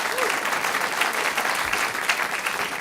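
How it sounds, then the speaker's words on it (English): An audience claps at a talk in an independent bookstore, a dense, continuous patter of many hands from start to finish. "I always appreciate it when people clap for that."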